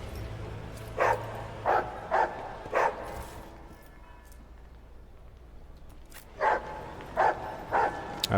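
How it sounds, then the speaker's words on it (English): A dog barks in the video game Warhammer 40,000: Rogue Trader, a series of single sharp barks in two groups separated by a pause, moderately close over quiet background ambience. "You don't have to keep barking."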